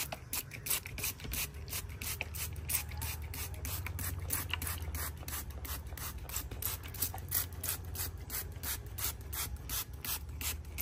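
A spray bottle mists a foxtail plant with quick, repeated trigger pulls, producing an even run of sharp hissing spurts close to the microphone, with no one talking.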